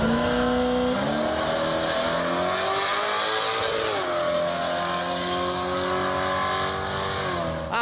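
Cars racing at the Quarter Aces Dragaway drag strip at a GM car show event, with a loud engine roaring and revving near and steady, the pitch shifting through gear changes, along with a rough, continuous exhaust roar.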